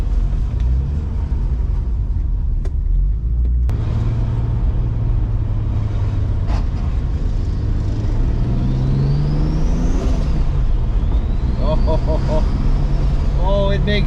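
A turbocharged BMW 733i E23 drives with its exhaust dragging, its low engine rumble steady while rising and falling turbo whistles sweep up near the end; a person talks over parts of it.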